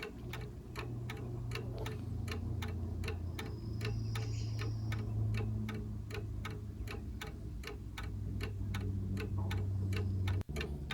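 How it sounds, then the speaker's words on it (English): A Selby mantel clock ticks in a steady, even rhythm, each crisp tick close and clear over a faint low room hum. "Here's a close-up shot of the actual part that's making the tick-tock sound of it."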